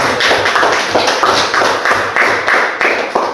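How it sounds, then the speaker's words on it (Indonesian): Students clap in a classroom, a close, loud burst of applause with a roughly regular rhythm that carries on for a few seconds. "Kasih aplaus untuk yang telah menjawabnya."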